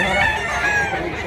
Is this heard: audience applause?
no